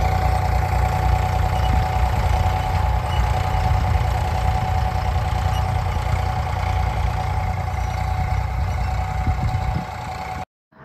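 A tractor engine idles steadily during wheat threshing, a loud continuous low rumble with a constant hum, cutting out abruptly near the end.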